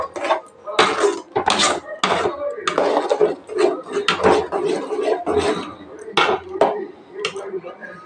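A spoon scrapes and clatters against a pot while chow chow mor kulambu, a chayote and buttermilk curry thickened with ground chana dal, is stirred up close in a steady series of sharp strokes.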